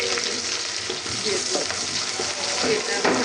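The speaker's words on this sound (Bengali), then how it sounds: "আমি কালার করে ভেজে নেব পেঁয়াজ" Sliced onion and garlic frying in a pan, a loud continuous sizzle with the scrape and rustle of stirring, close up and without talk.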